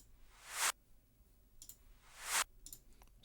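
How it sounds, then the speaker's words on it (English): A reversed clap sample in an electronic production swells up twice as a hissy, rising whoosh that cuts off sharply at its peak. It is quiet, with faint ticks between the swells. "here I also copied the clap, and I just reversed it"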